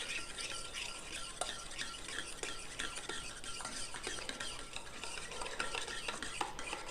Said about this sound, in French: Après ça, vous mélangez.